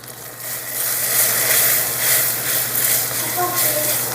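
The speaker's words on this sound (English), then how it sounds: "we're going to give this a good whisk and just continue to melt the butter" Butter melting with sugar and cinnamon in a pan while being whisked, a steady loud sizzle and hiss with soft rhythmic scraping strokes throughout.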